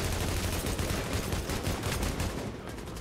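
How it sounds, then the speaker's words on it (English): Continuous rapid automatic gunfire sprays in The Division video game, a loud dense rattle of shots with no pauses, up close and filling the whole moment. "this gun sprays a little bit"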